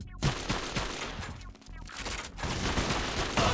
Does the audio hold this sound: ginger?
no